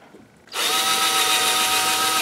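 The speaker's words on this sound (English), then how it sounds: "this is brass, so it's nice to drill through, there's no real problems" A power drill spins up abruptly after a quiet moment and runs at a steady, loud whine, close by, boring continuously through brass.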